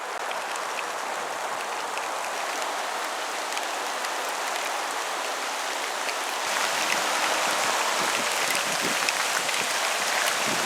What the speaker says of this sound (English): This is me walking down the staircase flight on my way to seek refuge from the pouring rain.